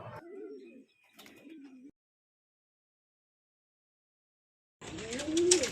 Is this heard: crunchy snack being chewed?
no